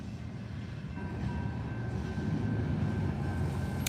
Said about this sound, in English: Bonus footage, train crossing.